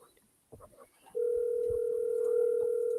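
An outgoing phone call to a real estate contact: after a couple of soft clicks, a loud, steady telephone ringback tone starts and holds unbroken to the end, with no voice answering.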